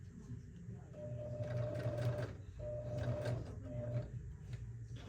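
A sewing machine stitches a tote bag handle in three close bursts of motor whir separated by short pauses, with handling noises in between.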